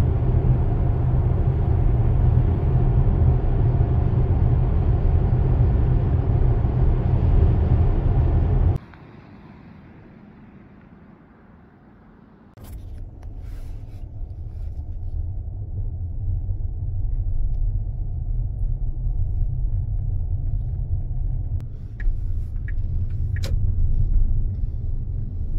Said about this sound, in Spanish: Aquí voy en la autopista, estamos manejando a 90 kilómetros por hora.